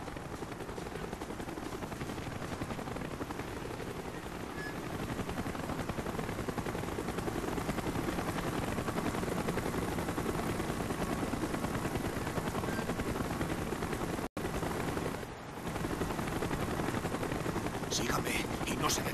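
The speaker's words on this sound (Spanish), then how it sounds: "¡Helicóptero en camino!" A helicopter's steady rotor roar fills a Call of Duty Black Ops mission, loud and continuous under gunfire-like game noise, with a brief dropout near the end.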